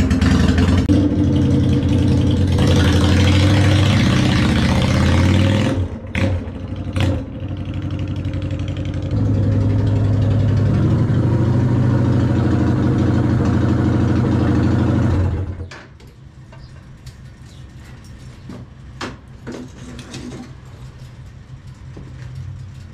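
A Honda Shadow 750 shaft-drive motorcycle engine runs loud and steady for about fifteen seconds with a brief dip, then drops to a quieter idle or fades with scattered clicks and knocks.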